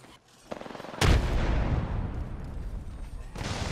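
A loud, close boom and rolling blast from a grenade in a first-person shooter game, followed by a sustained roar with gunfire under it and a voice speaking over part of it.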